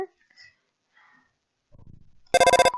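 A phone rings in the Undertale video game, a loud electronic ringtone in a quick rhythmic burst at the end after quiet breathing and faint sounds.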